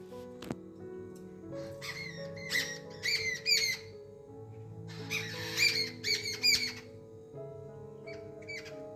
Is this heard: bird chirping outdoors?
yes